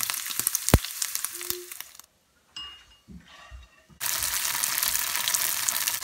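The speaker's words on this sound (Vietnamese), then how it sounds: "bây giờ mình sẽ bắt đầu chiên thịt để làm cái món kho quẹt này" Pork frying in a pan for a Vietnamese kho quẹt dip: steady sizzling and crackling, broken by a short quiet stretch with a few clinks and a brief stir, then loud even sizzling again.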